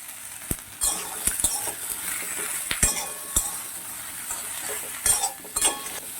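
Vegetables fry in a little oil in a pan for a raw mango sour curry, a soft continuous sizzle broken by scattered clinks and scrapes of a spoon against the pan.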